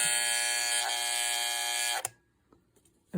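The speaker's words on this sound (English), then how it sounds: "let's see what the alarm sounds like" A Telechron Colonnade electric alarm clock buzzes loud and steady for about two seconds, then cuts off abruptly, leaving near silence with a few faint clicks before the sound starts up again at the very end.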